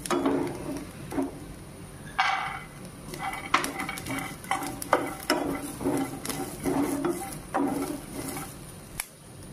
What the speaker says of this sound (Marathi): आता आपण त्याच्यात शेंगदाणे टाकू।